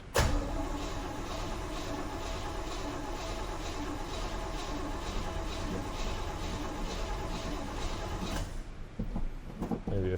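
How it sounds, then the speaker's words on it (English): A 1977 GMC truck engine, sitting all winter, cranks steadily with a fast rhythmic starter churn for about eight seconds without catching, then cuts off, loud and close. "we'll go ahead and give it a couple pumps of gas here. See if she'll fire up for us."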